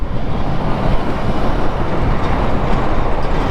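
Metro train standing on an elevated track overhead in Chennai, heard as a steady, loud broadband rail rumble with some wind buffeting on the microphone throughout, no voices.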